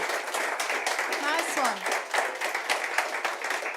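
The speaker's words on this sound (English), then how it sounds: "Round of applause for Dan." Audience applause and clapping for Dan, a competitor at the UK Barista Championship 2023 regional heat in Cardiff, a steady crowd patter lasting throughout with a voice speaking briefly over it.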